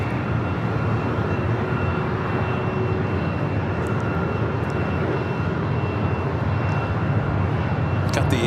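Virgin Atlantic Airbus A350-1000 pushing back at LAX: a steady engine roar and hum of airport ground noise, continuous and moderately loud throughout.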